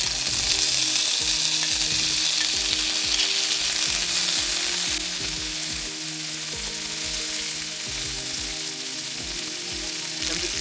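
Pork with plenty of its own fat frying in butter in a pan, a steady loud sizzle with crackling and occasional stirring scrapes, continuous throughout and with no talk.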